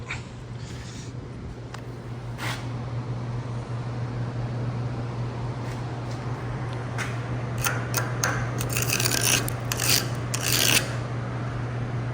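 A hard-facing weld bead is laid over a worn excavator bucket, giving a steady electric hum under a continuous crackling, sizzling arc that runs close and even for the whole stretch.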